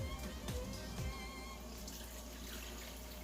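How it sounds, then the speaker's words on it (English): Leftover homemade broth pours into a pan of butter-based sauce for Swedish meatballs, a steady close liquid splash and gurgle running continuously with no talk. "Then you're going to add broth."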